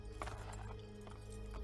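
Horses' hooves clip-clop at a steady trot in the video game Assassin's Creed Brotherhood, soft and slightly distant, over a low background drone, with no speech.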